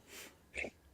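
A single short sneeze, preceded by a soft intake of breath and ending in a quick sharp burst, fairly quiet and close.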